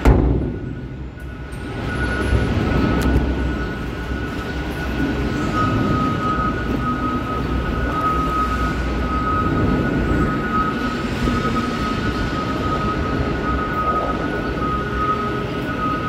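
A garbage trash compactor loads refuse into a trailer with a steady, loud mechanical rumble and hydraulic drone that holds continuously, with no voices over it.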